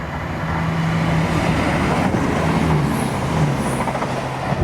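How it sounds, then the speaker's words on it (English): A Turbostar diesel multiple unit running from Edinburgh Waverley to Inverurie passes close by with a steady, loud rumble and low engine drone throughout, rising slightly toward the end, with no one speaking. "It's coming through now is another Turbo Star."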